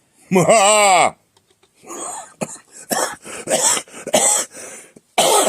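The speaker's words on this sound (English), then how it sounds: "That makes me cough." A voice lets out a long wavering moan, then several harsh coughs and throat-clearing bursts follow, close and loud.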